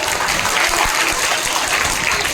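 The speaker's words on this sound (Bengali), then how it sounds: "বড় হাততালি দাও" Steady applause from an audience at a school prize-giving ceremony, a dense continuous patter of many hands clapping at fairly loud level throughout, with no voices speaking over it.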